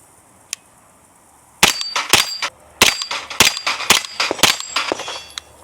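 Suppressed Scorpion Micro 3 Plus blowback pistol fired in a rapid string of about a dozen sharp, clanging shots with metallic ringing, close and loud, after a brief tick and near silence at the start.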